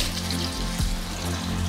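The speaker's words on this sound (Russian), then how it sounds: "Руки моем, как всегда," Tap water runs steadily into a sink while hands are washed under it, a close continuous rush with a brief splashy change partway through.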